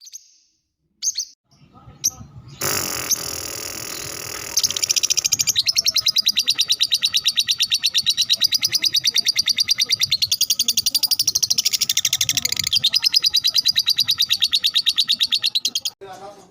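A lovebird sings a long, rapid, high-pitched stream of shrill chirps and trills, loud and close, continuing almost without pause.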